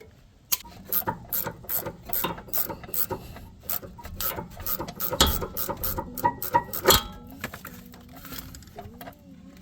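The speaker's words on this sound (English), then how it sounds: "we're gonna hold it still with an Allen, ratchet it out" Ratchet wrench clicking in a rapid, steady run of ticks as it backs out a sway bar end link nut on a 2011-15 Honda Civic, close and loud, with a few metallic clanks and scraping near the end.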